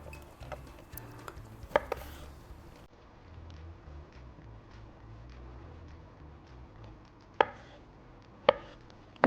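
Knife chopping pickled cucumbers into small cubes on a board, a few sharp taps early on and a couple of isolated chops near the end over a low kitchen background.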